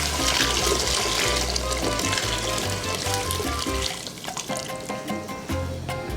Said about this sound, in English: I have to add the water before it's late.